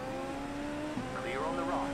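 IndyCar race cars pass in a racing video game, engine whine rising and falling in pitch as cars go by, steady and moderately loud throughout.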